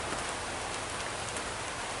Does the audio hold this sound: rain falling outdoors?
yes